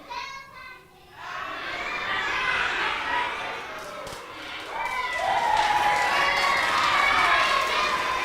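Children in a crowd cheer and shout after a magic trick at a church vacation Bible school show, a loud sustained roar of young voices rising near the end, with little distinct clapping.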